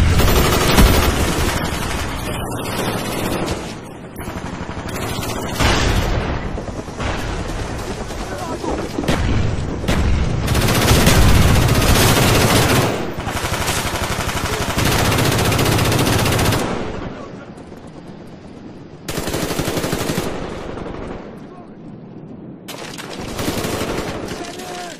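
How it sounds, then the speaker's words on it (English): A sentry gun fires during a Call of Duty match, mixed into dense rapid automatic gunfire and explosions that keep the action loud and continuous, with brief lulls between heavy bursts. "Friendly sentry gun inbound."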